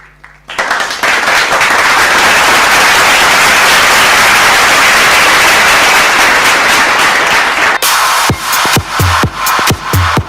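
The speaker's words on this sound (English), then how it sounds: "join me in applauding and calling upon stage DVO Digital Private Limited and Kohinoor" Loud, dense applause from an awards ceremony audience, a sustained roar of many clapping hands that breaks off abruptly near the end into a few distinct, separate claps.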